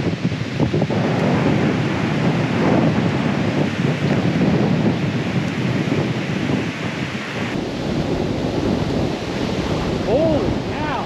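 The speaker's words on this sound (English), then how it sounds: "Oh yeah, that's rain." A thunderstorm with heavy rain at a St. Lawrence parks campground: a loud, continuous wash of downpour and gusting wind, with low rumbling underneath and a brief voice near the end.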